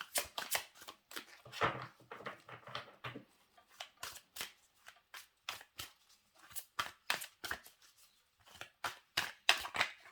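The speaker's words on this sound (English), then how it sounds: "I keep shuffling as well." Tarot cards shuffled over and over, sharp slapping riffles in irregular bursts with short pauses between, close and clear.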